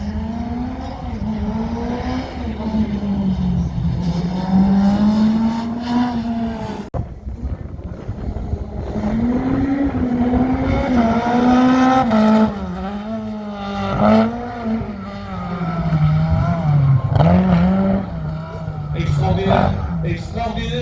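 A race car's engine rises and falls in pitch as it slides at high speed through a slalom course, with a commentator talking excitedly over it the whole time.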